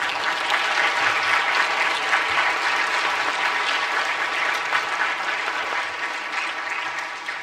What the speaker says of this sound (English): can I ask you to applaud based on how much you enjoyed the conversation?